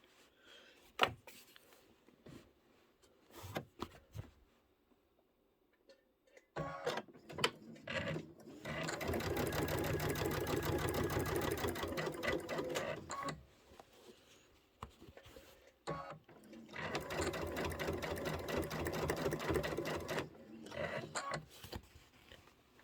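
A sewing machine stitches quilt pieces for an embroidered tiling snowman scene, running in two long steady bursts of rapid mechanical whirring. Short clicks and handling noises come before and between the bursts.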